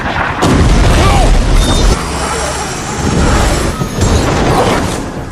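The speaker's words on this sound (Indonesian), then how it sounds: "tiba-tiba helikopter yang ditumpangi teman-teman Mason ditembak jatuh oleh tentara Paldonia" Loud, dense film explosion and crash as a military helicopter is shot down, a deep rumbling boom with sustained roaring debris noise and a few further surges, mixed under a busy movie soundtrack.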